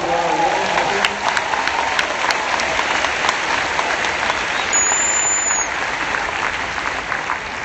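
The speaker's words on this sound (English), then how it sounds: "Give those people a round of applause" An audience applauds teachers at a large business event, a loud, dense, continuous wash of clapping from a big crowd that stays steady throughout and eases slightly toward the end.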